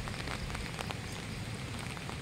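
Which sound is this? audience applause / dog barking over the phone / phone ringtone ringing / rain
rain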